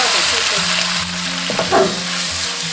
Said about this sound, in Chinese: 接着加入葱姜蒜，适量酱油